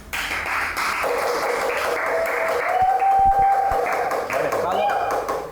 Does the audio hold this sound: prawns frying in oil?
no